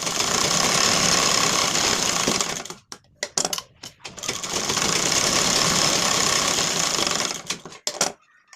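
An electric sewing machine stitching a lined blouse, a loud, fast, continuous whirring run that stops briefly for a few short bursts, then runs steadily again before ending in quick stop-start stitches.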